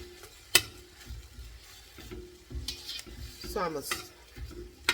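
Ground beef with onion and garlic frying in a pan gives a soft, steady sizzle, broken by a sharp utensil clack and scraping stirs, while someone speaks briefly.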